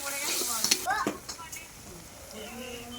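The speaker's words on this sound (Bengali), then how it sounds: "দেখো এখন হলুদ দেওয়া হচ্ছে, এই লঙ্কার গুঁড়ো দেওয়া হয়েছে, কষা হচ্ছে" Chicken frying in a pan with turmeric and chili powder, with quiet sizzling and a few stirring scrapes and clinks, faint and close.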